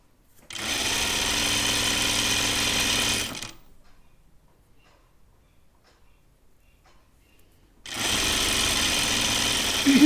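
A sewing machine runs in two steady, loud bursts while back tacking the tie of a Charlie caftan dress, with a quiet pause between them and no talking.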